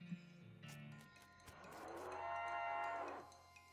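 A cow in the video game West of Loathing gives a long, loud low moo that swells and fades over a few seconds, following a shorter lowing sound, with no one talking.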